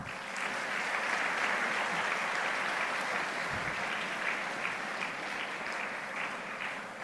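Audience applause at a college initiation day ceremony: dense, sustained clapping from a large crowd, loud and even without pause, with no talking over it.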